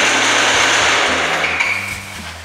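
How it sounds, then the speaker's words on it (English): A bandsaw cutting wood blanks for rosewood and bird's-eye maple numerals makes a loud, continuous harsh whine with an odd rattling hum throughout, with no talking. "I'm going to cut out my blanks on the bandsaw"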